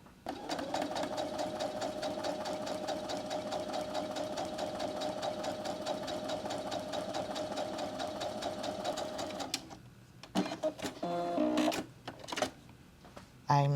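A sewing machine runs steadily, stitching diagonal lines across fabric for a coin purse, a fast even whir for about ten seconds before stopping, followed by a few short bursts of stitching and handling noise.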